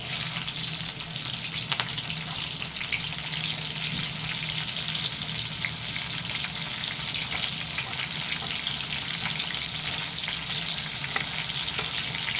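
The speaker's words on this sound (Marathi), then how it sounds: "मग आपण याच्यात टाकूया हिरव्या मिरच्या" Green chillies sizzle steadily in hot oil while upma is being made, a dense, even frying hiss that runs close and unbroken throughout, with no talking.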